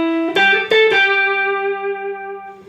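Electric guitar playing a box lick in G, with a few sharp picked and bent notes in quick succession that settle into a long sustained, slightly distorted note ringing out alone.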